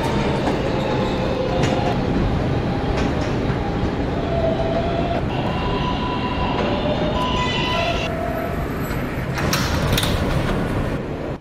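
Steady rumble of a local subway train heard from inside a car in motion, with continuous loud low-frequency roar, faint clickety-clack and brief wheel squeals rising over it.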